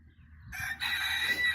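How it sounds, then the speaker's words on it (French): A farm rooster crows near a flock of silk hens and peacock pigeons, one long, strong cock-a-doodle-doo rising over a faint outdoor background, close and alone. "Là-bas, il y a le coq Jabolote de la ferme de Beaumont"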